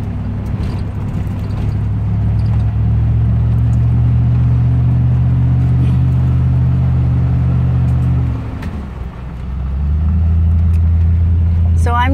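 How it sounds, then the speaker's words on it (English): A vehicle drives along a seven-mile private driveway, its engine and tyre rumble steady and loud up close for about eight seconds, briefly dipping, then resuming; no one speaks. "So I'm now 10 minutes into this drive on my dad's driveway"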